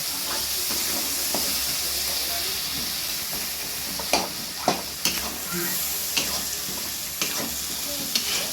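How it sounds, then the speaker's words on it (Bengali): Spice masala fries in a pan for a Bengali-style mushroom curry, a soft steady sizzle with occasional sharp taps and scrapes of a spoon against the pan. "মশলাটাকে দেখো ভালো করে ভেজে নিতে হবে।"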